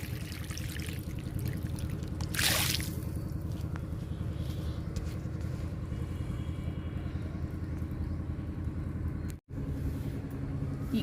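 A flowering plant is watered outdoors, with a continuous pouring and trickling rush of water under a steady rumbling background, briefly cut off near the end.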